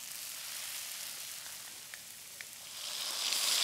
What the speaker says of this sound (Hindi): सरसों का तेल, इसका जो छौंक है वो बड़ा इंपॉर्टेंट है।